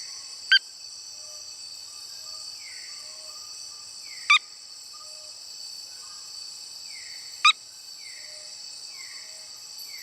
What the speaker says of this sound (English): one of the tree hole frogs that uses tree holes that fill up with water to essentially change the pitches of the sounds that it makes